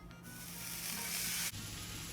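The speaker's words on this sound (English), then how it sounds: "That sizzle." Steady crackling sizzle of rava dosa batter hitting a hot pan, close and continuous, with a brief dip near the end before the hiss resumes.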